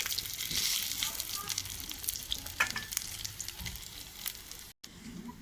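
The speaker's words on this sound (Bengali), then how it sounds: "এক এক করে আমি সব ভাজবো।" Bread fritters (roti bora) fry in hot oil with a constant crackling sizzle, stirred now and then, with sharper pops breaking through; close and steady throughout.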